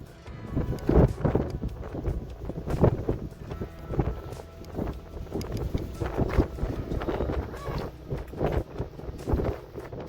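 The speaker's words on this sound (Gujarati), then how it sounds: "ધુમ્મસ વાળું, ફૂલ પવન" Strong wind gusts across foggy Girnar mountain during the monsoon, buffeting the microphone in repeated rough bursts that rise and fall over a low rumbling background.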